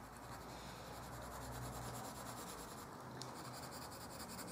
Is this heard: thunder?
no